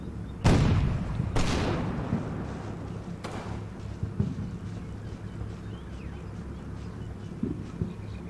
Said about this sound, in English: I'm still shelling suspected German positions down in that orchard.